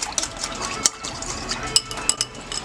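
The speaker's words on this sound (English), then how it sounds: "Get that in there like that with a whisk." Metal whisk clinking against the side of a pot while whisking a chicken piccata sauce, quick irregular taps and scrapes, close by.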